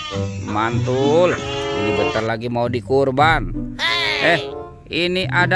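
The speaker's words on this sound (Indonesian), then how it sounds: "Wah, ada domba teman-teman." Sheep bleating repeatedly at close range on a farm, loud wavering calls that overlap with a person talking, with another animal call at the end.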